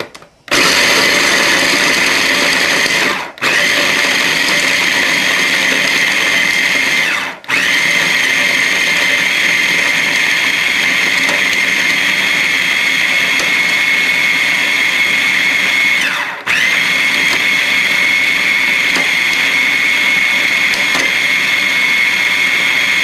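A kitchen grinder chops walnut halves into fine pieces for fudge-filled chocolate thumbprint cookies, running as a loud steady high-pitched whir with three brief dips where the motor pauses or the load shifts, no voices over it.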